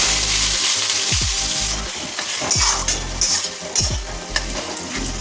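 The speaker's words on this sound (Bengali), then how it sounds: "ঝিঙে পোস্ত করার জন্য প্রথমে ঝিঙেগুলোকে এর মধ্যে দিয়ে একটু নেড়ে চেড়ে" Ridge gourd pieces sizzle in hot oil in a pan while a spatula stirs them, giving repeated scraping sweeps and clinks over a loud, continuous frying hiss. No one speaks.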